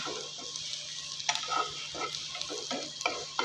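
Turmeric and chilli powder sizzle in hot oil in a pan for a dal tadka, a steady frying hiss broken by repeated spoon scrapes and stirs, close and fairly quiet.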